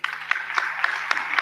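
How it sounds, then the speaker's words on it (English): Audience applause at a conference closing ceremony, sparse but distinct hand claps in an irregular rhythm over a faint background hum, moderately near. "Applaudissez."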